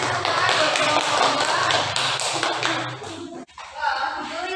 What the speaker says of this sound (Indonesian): Kasih tepukan buat kelompok